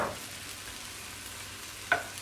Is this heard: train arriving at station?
no